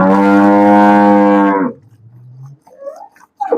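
A Friesian cow, a first-calf heifer, gives one loud, close, drawn-out moo lasting over a second, followed by a low trailing note and then quiet with faint small noises.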